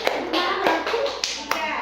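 Several sharp hand claps or taps land at uneven intervals over a short stretch, close and fairly crisp, with faint voice-like sound in the background.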